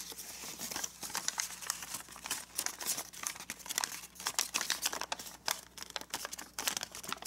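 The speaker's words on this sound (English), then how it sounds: "Let's fold it right to the corner" Origami paper being folded and creased for a marble run, a steady run of close, crisp crinkling and rustling with sharp snaps as edges are pressed, with no voices.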